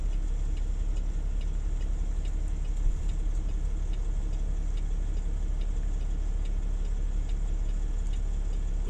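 A long-wheelbase winch truck manoeuvring at an oil rig site being dismantled, its engine a steady low idle-like rumble with faint regular ticking, continuous and moderately close.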